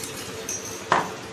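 A spoon stirs boiling milk thickened with cornflour in a pot, giving a steady low scraping under two sharp metallic clinks near the end.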